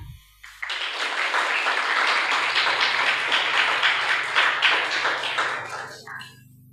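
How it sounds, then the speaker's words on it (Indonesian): Audience applause in a school hall during an Islamic sermon at a madrasah student orientation, a sustained crowd of hands clapping steadily for several seconds before fading out. "Ini luar biasa, bisa tepuk tangan."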